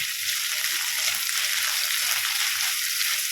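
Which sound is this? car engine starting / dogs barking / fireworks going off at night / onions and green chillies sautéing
onions and green chillies sautéing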